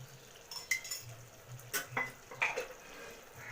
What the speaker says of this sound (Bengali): সর্ষের তেলটা এর সাথে ভালো করে মিশিয়ে দেব